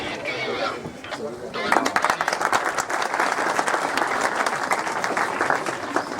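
Audience clapping at the inauguration of a police post, a dense burst of applause that swells after a quieter opening and then holds steady and fairly loud to the end, with voices mixed in.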